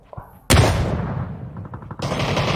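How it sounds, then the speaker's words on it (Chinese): Gunfire in a PUBG esports scrim match: a sharp loud burst of rapid shots opens the sound, then a rattling volley fades and a second burst follows, with no voices. "哦，听到枪声"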